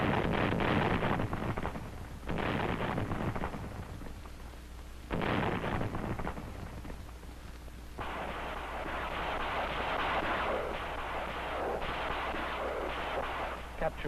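Rocket and artillery fire during the 1944 Battle of Saipan in the Marianas: loud booming blasts in several bursts, with rumbling and wind buffeting between them.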